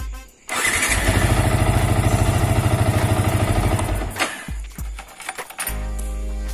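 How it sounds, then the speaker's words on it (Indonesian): A motorcycle fitted with an anti-theft alarm turns over on its electric starter and catches, the engine running loud and steady up close for several seconds before dropping to a rougher idle with a few clinks. "langsung kita coba starter lur."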